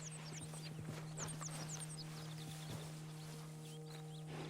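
A horse walks with soft, steady clip-clop hoofbeats in Red Dead Redemption 2 on PS4 Pro, set against faint bird chirps and a low constant hum.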